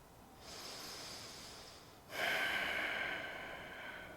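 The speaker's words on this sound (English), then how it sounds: "Breathe." Deep, slow breaths during a yoga flow session, one softer inhale followed by a stronger, louder airy exhale, close and unaccompanied by talk.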